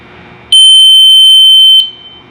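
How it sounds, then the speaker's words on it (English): A single loud, steady high-pitched electronic beep from a tester as ignition points open on a Harley Knucklehead engine, lasting just over a second, then cutting off, leaving near silence on either side. "So just about when it's gonna beep."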